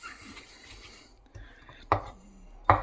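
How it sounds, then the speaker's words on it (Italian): A garlic clove crushed on a cutting board, two sharp firm thumps after quiet handling noises, close and clear. "Spicchio di aglio, lo schiacciamo per bene, così."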